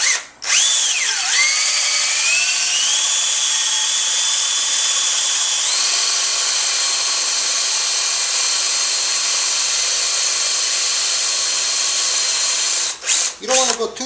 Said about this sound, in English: just be careful when you're drilling it